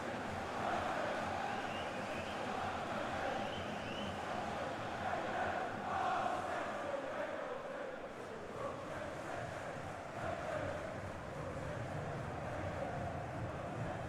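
Crowd cheering at Wembley Stadium in the football video game FIFA 20, heard as a dense, continuous roar that holds at a steady level throughout, with no distinct voices rising above it.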